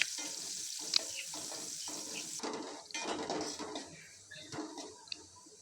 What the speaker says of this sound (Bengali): এখন একটা কড়াই চুলায় বসিয়ে পরিমাণ মতো তেল দিয়ে তার মধ্যে রসুন কুচি, অল্প পরিমাণে পেঁয়াজ কুচি দিয়ে